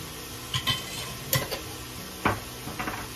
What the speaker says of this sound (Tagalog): haluluin natin ganyan para masuk ang mga sangkap